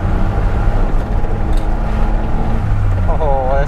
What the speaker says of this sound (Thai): เครื่องนิ่งมากเลย